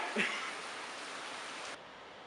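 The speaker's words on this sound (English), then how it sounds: "Rain!" Steady rain hisses in a broadband wash, close and fairly faint, dropping slightly in level near the end.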